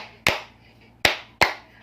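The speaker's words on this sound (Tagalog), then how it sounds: "Nakakalito yung palakpak." Three sharp hand claps ring out close and alone, one, then a pause, then two quicker ones, during a casual food-eating get-together.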